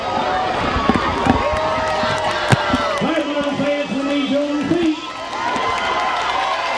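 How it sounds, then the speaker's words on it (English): A crowd in a Milan high school football stadium cheers after a touchdown against Liberty, a steady roar of voices with whoops and a few sharp shouts, moderately distant, while an announcer talks over it. "the Milan crowd has really come alive here after that touchdown"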